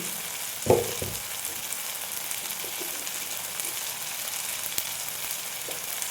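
Turmeric and chilli powder frying with tomato over lowered flame for a chickpea kurma, a soft continuous sizzle with a sharp spoon knock near the start and faint scrapes later, quiet and close, no talking.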